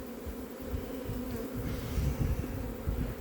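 Honeybees buzzing in an open hive, a dense steady drone of many insects close by, continuous and alone without talk.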